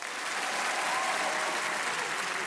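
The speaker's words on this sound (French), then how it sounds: "on va les applaudir" Audience applause at a French comedy festival ventriloquist show, a thick unbroken roar of many hands clapping at steady volume throughout.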